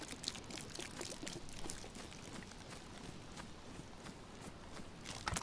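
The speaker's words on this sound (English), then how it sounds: "Empty the bottle." Water splashes out of an emptied bottle in DayZ, a faint, continuous pouring trickle with small irregular splatters throughout.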